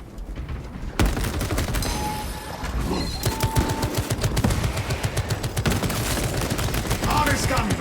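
A Techmarine's turbo gun fires in a Warhammer 40k game, a loud rapid burst of gunfire after a brief lead-in, running on with dense repeated shots and impacts while game voices speak over the battle.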